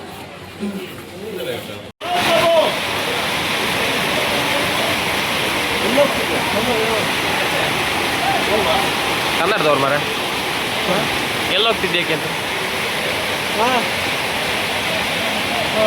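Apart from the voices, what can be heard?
heavy rain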